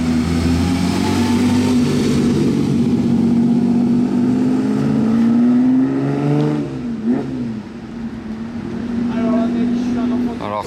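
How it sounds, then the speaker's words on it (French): A Ferrari 250 SWB with its V12 in a yellow car on period French plates, a steady rising and falling engine note with a clear harmonic drone throughout, close by, with someone talking over it. "Avec la sonorité du V12. Oh la 250"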